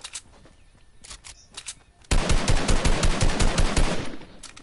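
Rapid automatic gunfire from a PS4 video game bursts in loud and close after a few scattered single shots, a dense stream of repeated cracks that runs for a couple of seconds before easing off.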